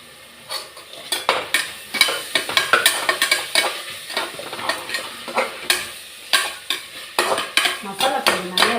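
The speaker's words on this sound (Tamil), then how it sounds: "நல்லா வதங்கட்டும்." Tomato biryani masala sizzles as it is sautéed in a pan, with a metal spoon scraping and clinking against the pan in a rapid, repeated stirring rhythm, close and loud, with no talking.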